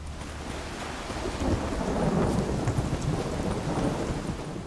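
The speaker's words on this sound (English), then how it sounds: "A storm, damn it." Thunderstorm with heavy rain in The Witcher 3, a steady dense hiss of rainfall with a low rolling rumble of thunder swelling in the middle, loud and continuous with no talking.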